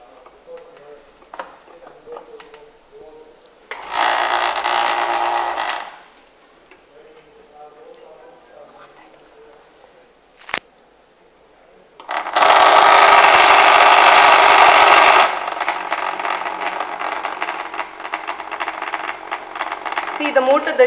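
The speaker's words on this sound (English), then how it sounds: "Now I will show how the motor is running." Small electric motor in a chopper-controlled voltage-compensation circuit, whirring in two loud bursts separated by quieter ticking and clicking, with a faint rattling hum continuing near the end and some voices present.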